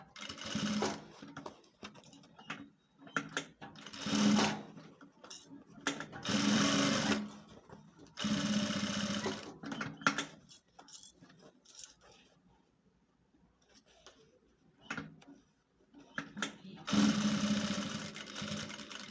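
A sewing machine stitches fabric for a handbag in bursts of rapid, close mechanical whirring, broken by short pauses. A person talks in between and over the runs.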